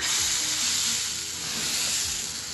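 Chickpea uttapam batter poured onto a hot dosa tawa gives a steady, close sizzle throughout, with a few soft low thumps as it spreads.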